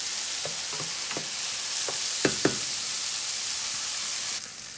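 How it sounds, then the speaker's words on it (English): Chopped onion sautés with golden mushrooms in a pan, a steady sizzle broken by a handful of spaced utensil clacks and stirs, with no one talking. "we're going to add our chopped onion and get that sauteing along with the mushrooms"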